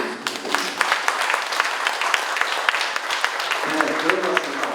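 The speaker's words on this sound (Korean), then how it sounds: "우리 미디어워치 황희원 대표님께 다시 한번 뜨거운 박수 부탁드립니다" Moderate audience applause in a small meeting room at a Seoul station venue, clearly separated claps over a steady wash, with a voice starting to speak near the end.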